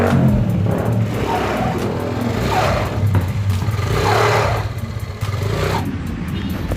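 A Yamaha Aerox scooter with a slipping CVT is throttled in repeated swells, its engine roaring alongside a strange rattly whine from the transmission, close by with no talk.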